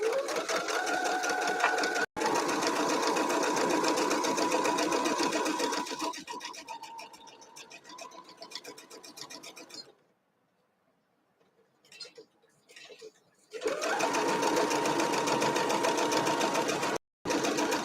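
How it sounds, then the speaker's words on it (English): A sewing machine stitches a quarter-inch seam on a star quilt block, running in a steady loud whir, slowing and pausing near the middle with quiet handling, then starting up again. "I'm going to sew my 1/4 inch on the other side."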